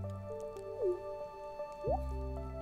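Stardew Valley game effect of a water bowl being filled: two bright squishy, dripping liquid splashes about a second apart, heard clearly over steady synthesized background music.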